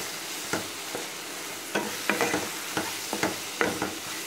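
Masala and softened tomatoes are stirred in a pan for a potato and butter beans gravy, a low sizzle punctuated by irregular scraping strokes of a spatula, close and with no speech.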